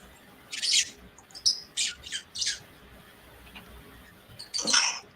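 Harsh, agitated squawks from a bird in a loft setting, several short loud bursts spaced apart and a final longer call, standing alone over faint background hiss.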